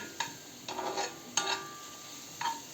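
Carrots frying in oil: soft sizzling with a few brief stirring scrapes, four short bursts spaced irregularly over a steady low frying hiss.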